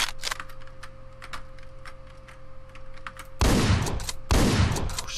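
Gunshots go off in the video game Hotline Miami: two loud, harsh blasts crash in after a stretch of quieter ticking and clicking game sounds.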